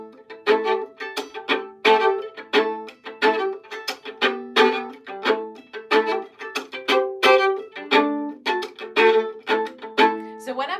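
Fiddle plays rhythmic double-stop chords on Shady Grove, bowed in short, regular strokes, close and moderately loud; singing is not clearly evident beneath the bowing.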